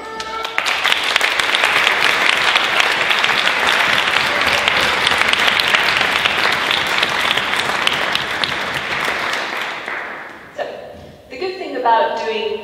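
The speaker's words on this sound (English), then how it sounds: "round of applause for Nick" Wedding guests give Nick a loud, sustained round of applause, dense clapping from a large crowd lasting about ten seconds before it fades and a speaker begins talking.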